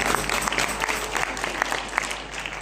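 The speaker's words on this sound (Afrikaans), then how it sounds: "Geef vir Marcus aan dit klap" Applause from a church congregation, a dense, steady clapping close by that fills the whole short stretch with sharp hand claps.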